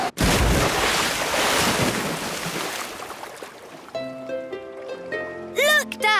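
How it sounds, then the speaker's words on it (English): Loud rushing burst of a cartoon aircraft splashing down into open sea, a broad roaring wash that fades over several seconds before brighter musical tones take over. "Prepare for a big splash."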